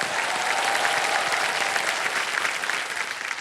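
A studio audience on the Indian quiz show Kaun Banega Crorepati gives loud, sustained applause, a dense continuous wash of many hands clapping without a break, tapering slightly at the end.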